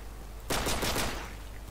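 Gunfire in the video game Modern Warfare 3: after a quiet moment, a loud burst of rapid automatic fire erupts and rattles on for about half a second before tailing off into a lingering echo. No voices.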